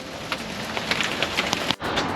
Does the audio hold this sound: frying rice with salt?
no